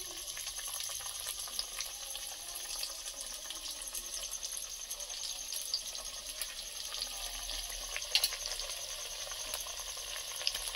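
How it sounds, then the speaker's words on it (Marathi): Taro leaf rolls (aluvadi) fry in hot oil in an iron wok, making a steady, close crackling sizzle that runs without a break and with no talking. "आता ही एक एक करून या कढईमध्ये सोडून घेते"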